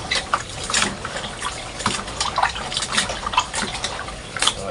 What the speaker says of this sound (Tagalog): hugasan talaga natin ito ng tubig